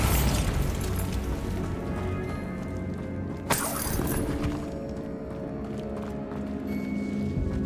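A Bombarda blasting spell in Hogwarts Legacy goes off as a single sharp crack and shattering burst midway through, over a constant dense rumble of game ambience and music, with no talking.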